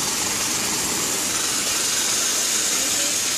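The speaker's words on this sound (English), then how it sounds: "please open steam gun only one" A GOCLEAN steam machine's steam gun releases a steady, loud, broadband hiss of pressurized steam at 16 bar, continuous and unbroken with no talking.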